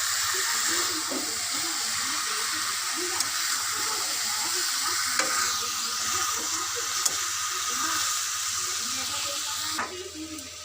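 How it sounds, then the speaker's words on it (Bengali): Meat sautéed as kosha in a pan gives a continuous broadband sizzle and steam hiss, with occasional small clicks and voices talking quietly underneath. "ওদিকে তো মাংস কষা চলছে"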